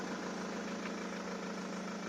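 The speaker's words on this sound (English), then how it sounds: "So I'm letting the engine run behind me for a bit." A car engine idles steadily behind the listener while an alternator problem is being diagnosed, a faint, even hum with a slight knocking vibration and no talk over it.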